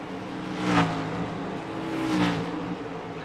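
A race car in a racing video game hums along at moderate volume as it enters pit road, its engine note swelling twice as it passes.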